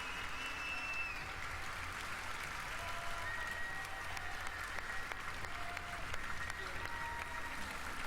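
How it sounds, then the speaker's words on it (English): Steady audience applause at the Ubisoft E3 2016 press conference, a dense wash of clapping at moderate distance with a faint voice briefly underneath. "Round of applause, everybody."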